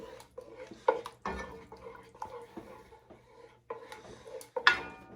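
Spaghetti sauce with red pepper flakes tossed in a pan gives a series of soft scraping, sloshing and clinking bursts, irregular and close, with quiet gaps between each movement.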